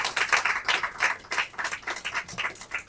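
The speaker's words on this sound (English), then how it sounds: "let's clap for our chairperson" A small group claps for the chairperson at a youth work press briefing in Accra, with uneven bursts of handclaps rising and falling in a loose rhythm, moderately close.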